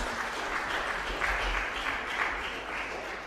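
An audience applauds at a human rights day commemoration event, sustained, even clapping from a sizeable crowd, moderately loud and continuous with no speech on top.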